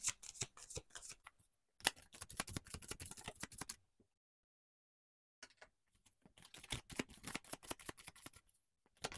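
Osho Zen tarot cards being shuffled in two bursts of quick, papery riffling and patting, separated by a silent gap, close and fairly quiet with no talking.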